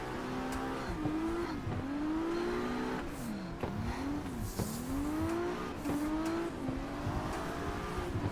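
Race car engine in the Assetto Corsa driving game revs continuously during a tandem drift, its pitch rising and falling with throttle changes, with tires squealing throughout; loud and steady with no talk.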